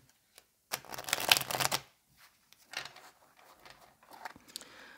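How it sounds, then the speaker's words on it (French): Oracle cards are shuffled for a reading, with a close, crisp burst of riffling followed by softer, scattered card flicks and taps in an otherwise quiet room. "on va terminer ici le tirage avec l'oracle G"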